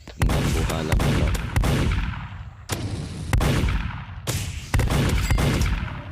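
Sharp gunshots crack in a Skibidi Toilet video game, single reports and short bursts spaced across several seconds, each with a booming echoing tail, loud and alone.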